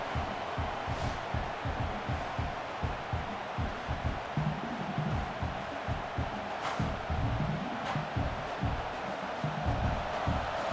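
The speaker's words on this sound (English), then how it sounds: "this crowd coming to life here, trying to help the defense get a stop" A stadium crowd in the College Football 26 video game swells with a dense, rumbling roar and rhythmic chanting pulses, steady and sustained across the whole stretch with no clear voices on top.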